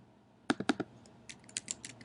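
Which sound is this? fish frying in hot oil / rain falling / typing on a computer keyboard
typing on a computer keyboard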